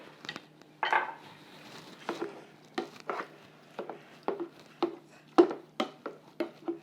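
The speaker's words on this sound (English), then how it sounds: "And then give that a stir" A spoon scrapes and knocks against a pot as red wine is stirred into lasagna meat sauce, in a steady series of close, sharp clinks and scrapes with brief pauses between them.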